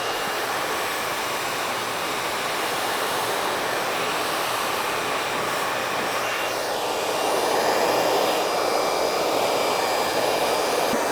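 A handheld hair dryer blows steadily and loudly while hair is being blow-dried in sections, a continuous airy roar that swells a little louder toward the end.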